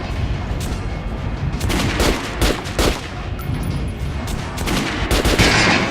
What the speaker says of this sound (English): shooting for the center of the regular dummy's chin